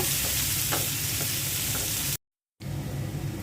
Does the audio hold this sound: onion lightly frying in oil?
yes